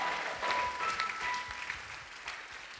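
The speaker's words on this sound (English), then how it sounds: "I was sure you were going to clap your hands." A church congregation clapping hands during a service, a short burst of fairly soft, diffuse applause at some distance that fades over a few seconds.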